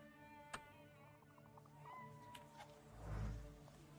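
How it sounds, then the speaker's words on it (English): A cat in the video game The Thaumaturge meows several times in a very quiet scene, with a louder drawn-out cry near the end over a soft musical hum. "I hear you, Kitty. Where are you?"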